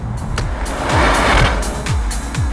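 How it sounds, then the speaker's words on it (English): Mercedes-AMG E53 hybrid with four-wheel drive and an electric motor launching hard from a standstill, a loud continuous engine roar that swells mid-way, with quick rising pitch sweeps as it shifts up through the gears. "When you're at a standstill, the 4-wheel drive system and the electric motor launch the thing with alarming pace"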